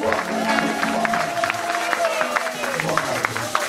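A church congregation at a Rotterdam service applauds and cheers, steady clapping and crowd noise filling the room with voices mixed in.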